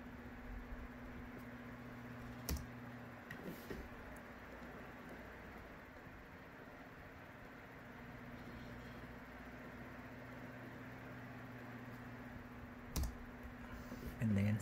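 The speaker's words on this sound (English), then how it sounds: "Type in this." Computer keyboard keys tapped while entering commands in a command-line interface during drone receiver binding setup; faint, sparse clicks over a steady low hum.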